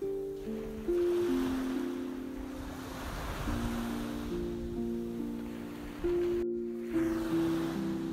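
Surf waves breaking steadily on a beach on Tanegashima, Kagoshima, a known surf point, with a continuous wash of water and wind noise throughout.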